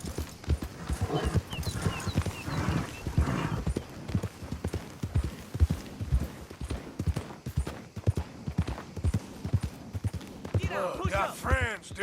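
Horse hooves clip-clop in a steady trotting rhythm in Red Dead Redemption 2, joined near the end by a whinny, while someone talks over them.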